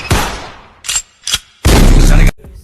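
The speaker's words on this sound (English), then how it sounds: "Make that pistol pop" Pistol gunshot sound effects crack out loudly as sharp, close pops, with one longer booming blast near the end.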